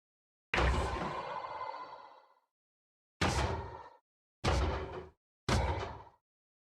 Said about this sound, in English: This is iron golem.